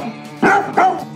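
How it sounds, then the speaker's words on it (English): A neighborhood dog gives two sharp, loud barks in quick succession, clear and close, with no talking over them. "I thought I heard a neighborhood dog just then"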